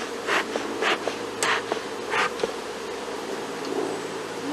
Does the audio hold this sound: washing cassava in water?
no